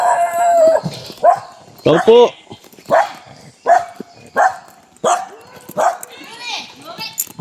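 A dog barks and howls repeatedly outdoors, loud close yelps and drawn-out wavering howls coming in bursts about every second while a person speaks briefly.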